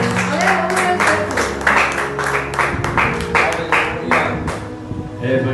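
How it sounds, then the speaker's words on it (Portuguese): A church congregation claps during a Portuguese-language preaching service: broad, sustained applause with irregular hand taps, loud and close, while a voice speaks over it with an organ-like tone beneath. "Quantos podem aplaudir a Jesus Cristo de Nazaré? Aplaude, irmão, ele merece."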